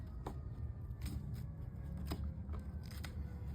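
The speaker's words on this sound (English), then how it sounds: "he needs to have his hair trimmed or clipped away with the clippers" Clippers trimming an animal's hair away from around a wound, heard as a steady close buzz with a few sharp clicks and snips spaced through it, no talk.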